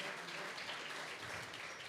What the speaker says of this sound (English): big round of applause for Adolfo for coming over.